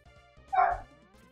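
A single dog gives a short, muffled howling yelp from another room, brief and moderately faint, with quiet background sound around it.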